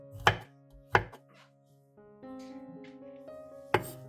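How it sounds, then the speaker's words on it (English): Knife chopping garlic cloves on a cutting board, a few sharp, distinct chops spaced apart, close and clear, alongside soft background music tones. "Next, chop finely."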